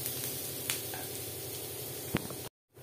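Onions salted in a pan fry with a steady, close sizzling hiss and a couple of light stirring taps before the sound cuts off briefly.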